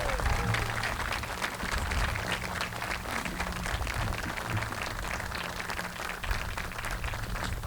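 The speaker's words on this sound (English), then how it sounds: "Please give them all a round of applause." A crowd applauds honorees at a groundbreaking ceremony for the Illinois State indoor practice facility, with fairly quiet, distant clapping spread evenly over a low outdoor rumble.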